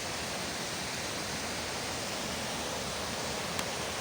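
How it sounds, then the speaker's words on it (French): A forest stream rushes steadily where a second stream pours into it, a dense, continuous broadband wash of flowing water, close and loud, with no voices. "il y a carrément un autre ruisseau qui vient se jeter, les amis, dans le ruisseau de la Lumière, qui repart vers là."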